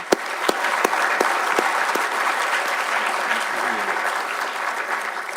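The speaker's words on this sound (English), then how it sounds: "join me in giving Bill Brown and Kieran Pender a big round of applause for organising today" An audience at a transparency summit applauds the event organisers with a sustained round of clapping, a few sharp individual claps standing out near the start over the broad crowd sound.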